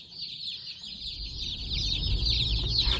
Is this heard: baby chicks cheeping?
yes